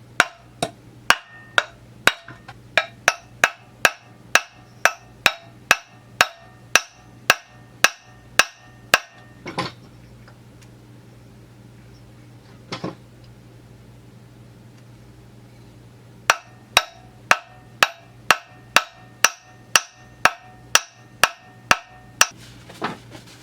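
Hammer strikes on the clutch of a Husqvarna 394xp chainsaw during a rebuild, sharp metallic blows in rapid steady runs, a long pause with one or two isolated hits, then another fast series.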